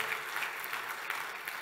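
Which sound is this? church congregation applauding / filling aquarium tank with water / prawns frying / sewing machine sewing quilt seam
church congregation applauding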